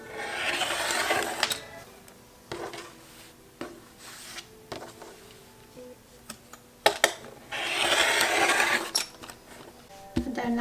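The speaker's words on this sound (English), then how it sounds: "I'm gonna cut around the excess fabric" Scissors cut around excess fabric for a bag project, giving two longer bursts of dry rasping snips at a close distance, with scattered handling clicks and rustles between them.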